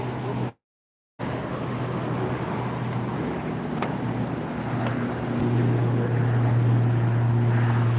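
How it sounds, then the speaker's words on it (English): An Emirates Airbus A380 heads out at LAX, a steady broadband jet roar with a low engine hum that swells louder toward the end, after a brief dropout near the start. "The Emirates A380 is heading out."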